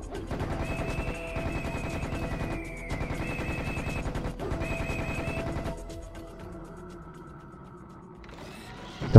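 Rapid rhythmic weapon fire in Serious Sam rattles steadily in bursts over a droning hum, then a rising whine and a sharp rocket blast at the end.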